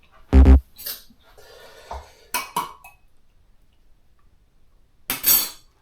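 A teaspoon clinks in a handful of short, sharp, close taps spaced unevenly over several seconds, with quiet gaps between them.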